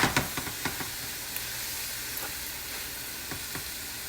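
A shrimp, bacon and corn quesadilla sizzles steadily in a pan just after being flipped, a constant close frying hiss with a few soft clicks and taps at the start.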